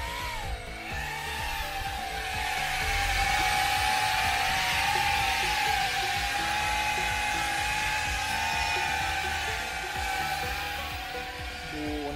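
A steady, loud whirring hum of an FPV drone's small ducted propellers holds close and continuous, rising slightly and settling, with an airy rush like a ventilation fan, in a pine grove in Fukutsu, Japan.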